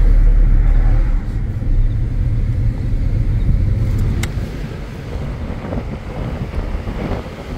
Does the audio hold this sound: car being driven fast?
yes